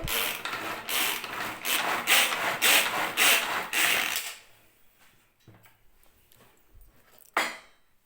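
A manual vegetable chopper works quickly, giving about four seconds of repeated ratcheting, rubbing pulls, close and loud, followed by quieter handling clicks and a final sharp knock.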